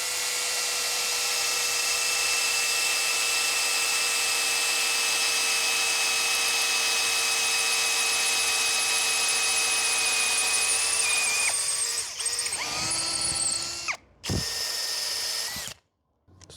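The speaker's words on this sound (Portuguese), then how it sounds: "em quanto tempo esta Hanabi consegue perfurar esse caibro aqui de eucalipto com a broca para madeira número 8" A Hanabi cordless drill bores a eucalyptus rafter with a number 8 wood bit, a loud steady high whine held for about eleven seconds, then wavering and stuttering as the bit works through before stopping.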